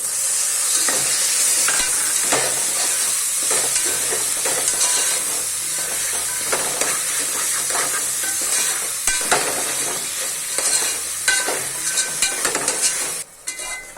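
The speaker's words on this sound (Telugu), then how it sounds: "ఇప్పుడు పక్క తీసి పెట్టుకున్న మష్రూమ్స్ వేసుకోండి." Mushrooms fry in a pan for mushroom biryani, giving a loud, steady close-up sizzle with continuous hiss and frequent scraping, stirring clatters for the full stretch.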